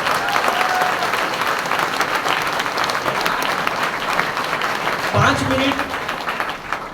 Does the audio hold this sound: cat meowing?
no